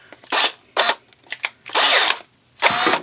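DeWalt cordless pruning shears snapping through a branch, a handful of short motor whirs in bursts with quiet gaps between, close and fairly loud.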